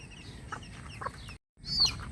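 Soft clucking from young Bulik Gilmore chickens, a few short calls close by, broken by a brief moment of silence.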